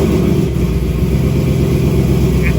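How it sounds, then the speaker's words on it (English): A car engine, freshly dyno-tuned with an SCT BDX tuner, runs loud and close in a steady, continuous roar with no pauses. "Ready to start the car and see if it works?"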